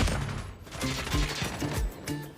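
A string of gunshots in Call of Duty Mobile, with several crisp, evenly spaced reports over game background noise, at moderate loudness and somewhat distant.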